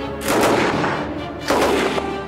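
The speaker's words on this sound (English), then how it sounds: "This is the Lewis gun. This one happens to be in 30-06." A Lewis gun chambered in .30-06 fires in the desert: two loud bursts of rapid automatic fire, with a brief gap between them and echoing decay after each.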